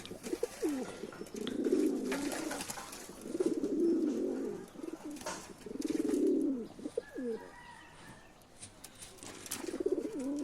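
Silver pigeons cooing, a series of soft, rolling coos repeating every couple of seconds, close and clear, with faint chirps and rustling between them.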